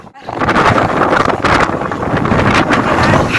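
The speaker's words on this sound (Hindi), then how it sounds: "मतलब की इतनी तेज हवा चल रही है उड़ जाओ।" Strong wind roars and buffets the microphone outdoors, a loud, continuous gusting rush that fills the whole stretch without pause.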